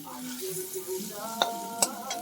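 Prawns stirred while lightly boiling in a pot, soft bubbling with a couple of sharp utensil knocks against the pot near the end.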